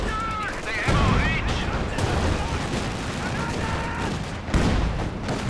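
A Company of Heroes 2 battle erupts with a ZiS gun barrage and a Molotov, with dense, rapid gunfire crackling continuously and heavy booming impacts near the start and again toward the end, all loud and close.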